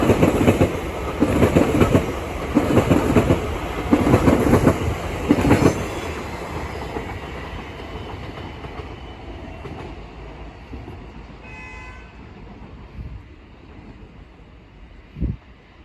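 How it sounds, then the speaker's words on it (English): A TfL Rail Class 345 electric train runs past at Bethnal Green between Shenfield and London Liverpool Street, with loud rhythmic clickety-clack over the rail joints that fades as it moves away, a brief wheel squeal, and a final thump. "TfL Rail Class 345 pass by from Shenfield to London Liverpool Street"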